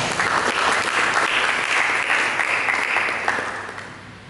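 A church congregation applauds for Jesus, a loud, dense burst of clapping that holds steady and then gradually thins toward the end.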